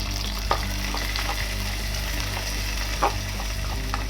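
A pan of coconut milk fish curry sizzles and bubbles steadily over a low constant hum, with a couple of soft scraping clicks from stirring.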